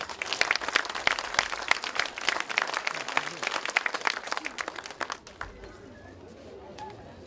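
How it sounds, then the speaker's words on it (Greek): Warm audience applause at a Greek poetry and storytelling event, dense clapping for about five seconds that then fades to a scattered patter with faint background murmur. "ένα χειροκρότημα ζεστό"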